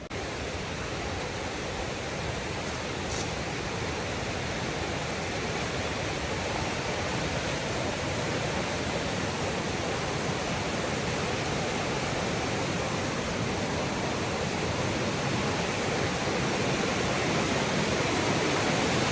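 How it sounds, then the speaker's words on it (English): A waterfall at Big Creek in the Ozarks gives a steady, loud, broadband roar of rushing water that holds constant and close throughout, with no voices. "We got one more cave and waterfall to go check out."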